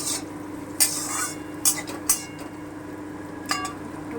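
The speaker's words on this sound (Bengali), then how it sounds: "আলুটা দিয়ে একটু ভেজে নেবো" Soft, low sizzle of potatoes and bitter gourd frying, broken by four or five sharp scrapes and clinks of a spatula stirring the pan.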